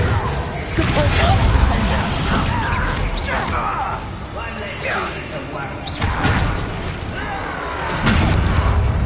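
Depulso force spell cast repeatedly in Hogwarts Legacy, with whooshing casts followed by booming crashes and thuds, loud and close, under ongoing in-game voices.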